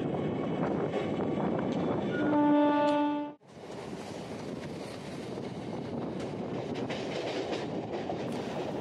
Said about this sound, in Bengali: সামনে যে লোকাল ট্রেনটি দাঁড়িয়ে আছে তার পিছনের সেটটি হলো পূর্ব রেলের EMU কারসেট